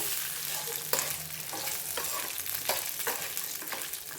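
Seven dried red chillies frying in hot oil, a steady crackling sizzle with a few stirring scrapes of a spoon against the pan, close and continuous with no talk.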